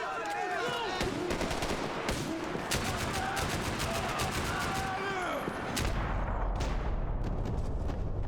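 Dense gunfire in the action video game Max Payne 3 sounds as rapid, close bursts of automatic shots, steady and loud across the whole stretch, with a player's voice talking over it at times.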